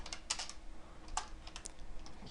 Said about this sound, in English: I cannot type today, wow.